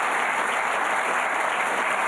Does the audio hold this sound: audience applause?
yes